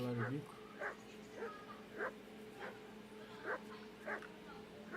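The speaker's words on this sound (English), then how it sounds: "Can you get your dog to shut its beak?" A video game dog barks repeatedly in regular, evenly spaced yips and bow-wows, moderately near but fairly quiet, with a faint steady background hum and speech briefly at the start.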